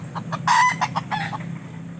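A young labuyo junglefowl chick about two months old gives a few short, high chirping calls up close, each brief and clear over a low steady background hum.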